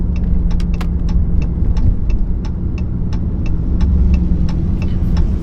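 Straight-piped 2022 Chrysler 300 S engine droning steadily while driving, a loud low throbbing exhaust note held at constant speed with faint rhythmic ticking above it, no talk.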